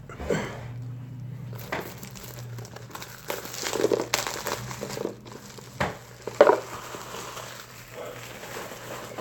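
Plastic wrapper on a boxed Magic the Gathering Ixalan set crinkles and crackles up close as it is snipped open with scissors, in irregular bursts with short pauses between.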